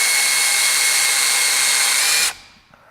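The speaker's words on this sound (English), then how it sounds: "We use the exact same screw drill bit, and we're going to drill into that post." A power drill drives a screw into a post, whining at a loud, steady pitch for about two seconds before stopping abruptly, followed by faint clicks.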